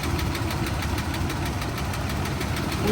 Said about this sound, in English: It could be the engine itself that's knocking